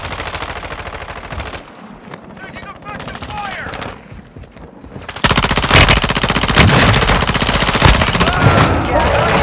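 Rapid automatic gunfire and scattered shots ring out in a Call of Duty Warzone 2 match, sparse at first and then a dense, loud, sustained burst of firing.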